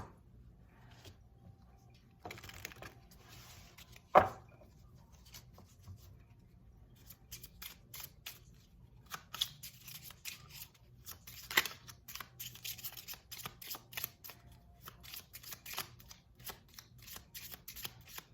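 A deck of cards being shuffled in several bursts of crisp riffling and flicking, close by, with quiet pauses between and no talking.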